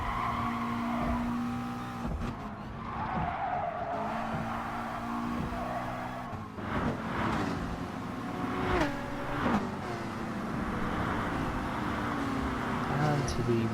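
Race car in Gran Turismo Sport being short shifted: the engine rises and drops repeatedly through quick gear changes, with tire squeal, under steady talking.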